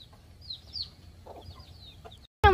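Chickens in a small cage of PVC-coated wire mesh and steel mesh give scattered soft clucks and chirps in a quiet setting, ending in a sudden loud, close squawk.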